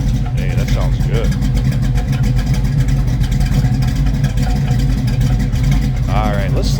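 A 1969 Ford Mustang Mach 1 tribute with a 302 V8 and four-speed idles low and steady, a deep continuous rumble close by, while someone talks briefly over it.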